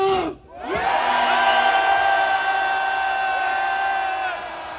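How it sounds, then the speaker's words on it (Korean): A large outdoor crowd at a rally opposing an impeachment bursts into a long, sustained roar of shouting and cheering after a brief dip, the massed voices holding loud before easing off. "함성 발사!"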